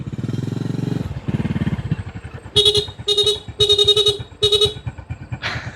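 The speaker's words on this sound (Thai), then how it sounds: "โมมาขี่รถจักรบ่ขึ้นได้ไหม" A motorcycle engine chugs close by in a fast, pulsing rhythm, joined partway by several short, bright horn-like toots before settling back to the throbbing idle.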